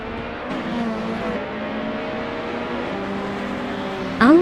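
A 2007 Peugeot 407 race car in a racing video game drones steadily at a held engine pitch, with a brief rising whine at the very end.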